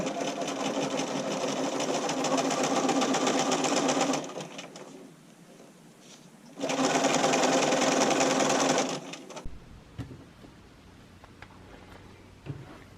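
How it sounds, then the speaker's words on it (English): Sewing machine zigzag stitching fold-over elastic on a bodysuit neckline: two loud, steady mechanical runs of rapid stitching separated by a pause, then quieter handling noises. "I just want to fold this over with my fingers and sew along with the zigzag"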